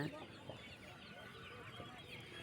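Crossbred fighting roosters cluck amid a busy rooster market in Konganapuram, Salem district, a steady dense chatter of fowl with crowd noise throughout.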